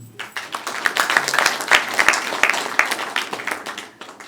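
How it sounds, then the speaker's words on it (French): Newly graduated students applaud at a ceremony in the Democratic Republic of the Congo, a dense, steady crowd clapping that runs throughout at moderate loudness with a few sharper individual claps standing out. "Vous pouvez vous applaudir"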